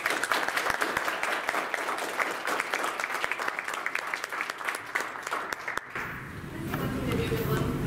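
Audience applause at a university panel on ending food waste, steady dense clapping for about six seconds before thinning to a quieter room tone with scattered claps and murmur.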